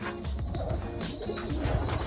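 Racing pigeon cock bird cooing in a loft, soft low throaty coos repeating steadily over a constant background hum, fairly close.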